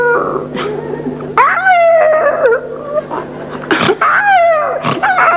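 A voice imitates a dog caught by a bear, with loud howls, yelps and whimpers rising and falling in pitch, close and animated.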